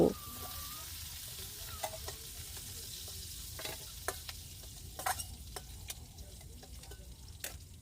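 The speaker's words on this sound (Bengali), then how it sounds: "এখন দেখো কাঁকড়া কিন্তু ভালো করে ভাজা হয়ে গেছে, তেল থেকে আমি কাঁকড়াটা তুলে নেব" Sea crab frying in hot oil, a soft steady sizzle with scattered sharp crackles and pops spread across the clip, heard close and fairly quiet, with no one speaking.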